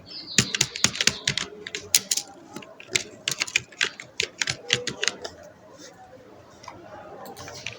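Rapid bursts of keystrokes on a computer keyboard while entering text in Microsoft Word, crisp close clicks in uneven clusters that taper off into a softer background near the end, with a person speaking at times.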